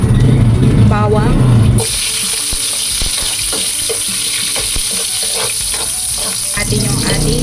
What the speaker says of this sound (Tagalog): Magigisa na tayo. Lagyan na tayong konting oil.